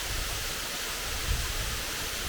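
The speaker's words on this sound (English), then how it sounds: "And then you have the opportunity to stand right below this beautiful waterfall." A Colombian waterfall heard from right below it, a dense, constant broadband roar of falling water that stays steady and loud throughout, with no voices.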